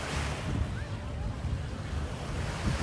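Steady surf rolls and washes onto the beach at JBR in Dubai, mixed with wind buffeting the microphone, continuous and fairly loud throughout.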